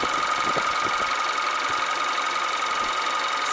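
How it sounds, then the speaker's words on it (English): A car engine idles steadily during an alternator test with a multimeter, a close, even mechanical hum with a faint knocking texture and no voices. "So now we got the engine running."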